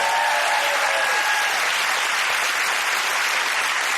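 A studio audience at a comedy quiz show breaks into loud, sustained applause, a thick wash of clapping that holds steady from start to finish.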